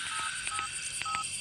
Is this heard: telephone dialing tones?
yes